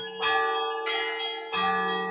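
Small hand bells ring close by in three struck notes, each bright tone lingering and blending into the next.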